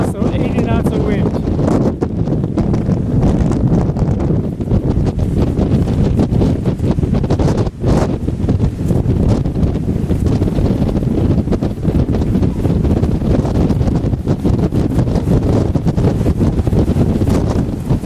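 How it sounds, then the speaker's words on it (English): Strong gale gusts batter a sailboat anchored in Kaneohe Bay, Hawaii, during a storm, roaring continuously into the microphone with heavy buffeting and a brief dip midway, while a voice talks faintly beneath. "we had a gust of 80 knots of wind."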